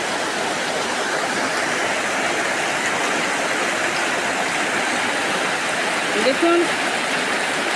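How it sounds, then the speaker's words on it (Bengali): Heavy rain pours down in an even, dense roar that keeps going without a break. A person speaks briefly near the end. "আবার বৃষ্টি শুরু হয়ে গেল।"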